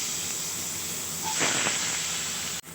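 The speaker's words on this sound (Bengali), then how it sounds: "আলুগুলো আমি এখন একটু হালকা করে ভেজে নেব" A steady, loud hiss of potatoes frying in oil, swelling briefly in the middle and ending with a sharp click.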